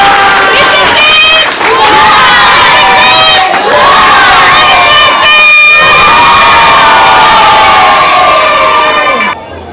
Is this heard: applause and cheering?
yes